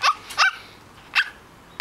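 A voice imitates a horse with three short, high yelping calls spaced unevenly, close and fairly loud, separated by quiet gaps.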